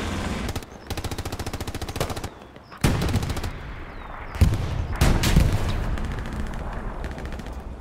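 Gunfire in the World War II shooter Hell Let Loose, with loud bursts of rapid automatic fire broken by short pauses, heavier booming reports and a lingering rumble, all close and without talk.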